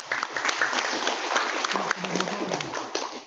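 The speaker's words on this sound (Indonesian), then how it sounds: "Kita tepuk tangan dulu." A talk show audience gives a round of applause, a few seconds of uneven clapping with some sharp individual claps standing out and a faint murmur underneath.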